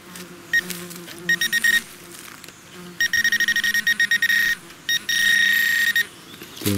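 A metal detector sounds a signal tone over an old road, a series of rapid high electronic beeps in bursts of varying length, fairly close and clear, with no talk over it.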